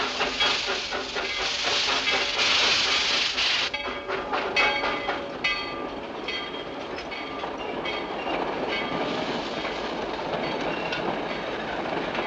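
A train rolls along steadily with rhythmic clickety-clack of the wheels and a hiss of steam, loud and continuous with no voices.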